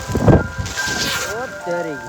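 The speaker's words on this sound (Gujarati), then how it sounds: "અમારા ગામમાં વાવાઝોડું વીજળીને કડાકા ને ભડાકા થાય" A village thunderstorm with rain and thunder: a sharp, loud crack of thunder at the start, then a steady wash of rain hiss with a few faint rising tonal calls near the end.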